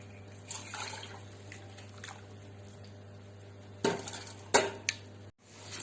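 Broth for an asparagus velouté is poured and pressed through a chinois sieve, a quiet trickle of liquid broken by clinks and scrapes of metal utensils, with a louder pouring burst near the end.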